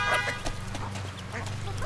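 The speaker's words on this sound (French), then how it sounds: "J'ai également 2 canards coureurs indiens." Indian Runner ducks quack in a few quick, nasal bursts over a low background hum, fairly faint and close together, in a permaculture garden.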